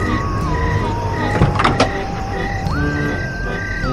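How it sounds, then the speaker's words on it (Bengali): A door opens with a cluster of clicks and a short scrape near the middle, set against a steady electronic drone. "কলিং বেল বাজা মাত্রই কুণাল ছুটে গিয়ে দরজা খুলল"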